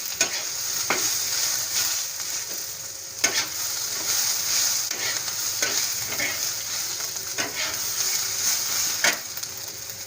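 Onions fry in a hot kadhai on a gas stove, a steady, loud sizzle running throughout, broken by occasional sharp clinks and scrapes of stirring, with no voices.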